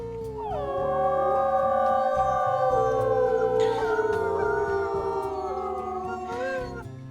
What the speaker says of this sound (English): Let's go ahead and do a howl now that we're back home